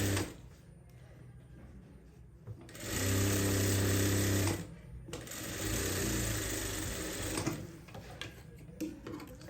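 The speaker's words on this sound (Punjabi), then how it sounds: "ਪਹਿਲਾਂ ਆਪਾਂ ਇਹਦੇ ਉੱਪਰ ਸਲਾਈ ਲਗਾ ਦਈਏ ਇਹ ਪੱਟੀ" Domestic sewing machine stitching a strip onto the hem of a salwar, a steady close whirring run that speeds up loudly for a couple of seconds, pauses briefly, then runs again at a moderate pace.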